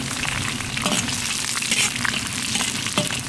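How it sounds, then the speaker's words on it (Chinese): Green onion, ginger, dried chilies, Sichuan peppercorns, star anise, cassia bark and bay leaves fry in hot oil in a wok, giving a loud, continuous crackling sizzle with light stirring scrapes close up. "锅里倒点油，加入葱姜，葱姜炸干，下入干辣椒、花椒、八角、桂皮、香叶"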